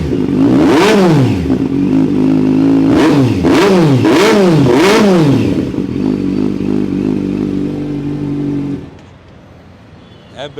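A 2020 Kawasaki Z900, a second-owner bike on a showroom lot, revs hard four or five times in quick succession, each blip rising and falling loudly up close, then settles into a steady rumbling idle before cutting out near the end.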